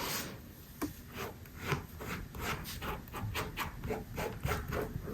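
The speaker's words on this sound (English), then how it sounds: "the best thing that you can do to close those holes is just to continuously like rub your fingers" Fingers rubbing wet plaster over styrofoam rock formations for a Christmas village build, a close, rhythmic scratchy rubbing repeated in quick strokes for several seconds, with no voices.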